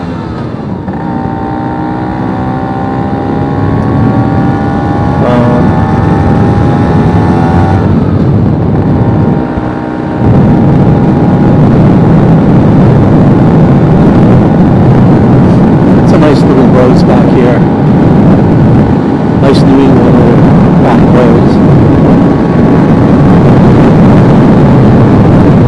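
A Vespa P200e 200cc two-stroke scooter rides along a road on a long country trip, a loud continuous engine drone with rising and falling pitch and heavy wind rush close to the rider.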